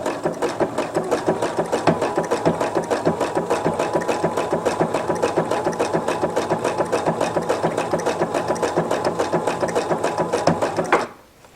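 A sewing machine stitches a tulip applique onto a kitchen towel, running at a steady, fast, rhythmic needle pace for about eleven seconds before stopping abruptly. It is loud and close, with no talk.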